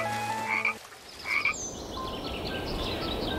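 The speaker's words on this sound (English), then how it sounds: "the adult frog can jump, swim, and sing" Frog croaking in a pond ecosystem, a few short clear calls near the start, then fainter higher calls over a hissing, noisy background.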